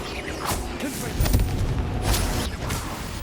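A Confringo fire spell erupts in Hogwarts Legacy, a booming blast followed by a couple more rumbling bursts layered over busy game effects, with a voice calling out the spell.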